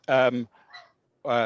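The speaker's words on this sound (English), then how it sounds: "excuse my dog barking" A dog gives two loud, close barks separated by a short pause, with quieter whimpering or rustling in between, heard indoors at a home.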